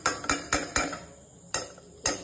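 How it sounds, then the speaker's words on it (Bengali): A spoon clinks against a pot while boiled corn is mixed with ghee, giving six sharp metallic taps in uneven bursts, close and fairly loud with no talking. "ঘি দিয়ে মিক্স করব।"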